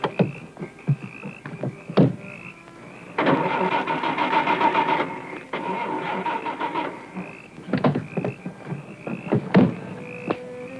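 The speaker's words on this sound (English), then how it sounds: "But my car won't start, and I have to catch a plane." A car engine cranks and strains in a sustained grinding burst of about two seconds, set among scattered knocks, clatter and a high tone, then more uneven rough engine noise follows before fading to short thumps.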